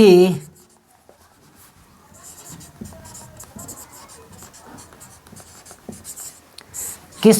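Chalk or pen writing on a board during a maths lesson, a steady run of soft scratchy strokes and taps under faint background, with brief speech at the very start and end.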